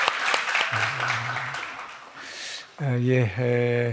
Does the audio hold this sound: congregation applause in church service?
yes